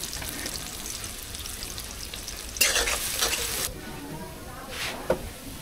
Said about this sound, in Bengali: পেঁয়াজ ভাজা হয়ে গেছে, লাল লাল করে পেঁয়াজ ভাজিছি